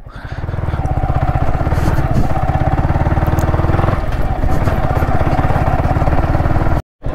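Motorcycle engine running close and loud with a steady throbbing rumble while being ridden, ending in a brief cut near the end.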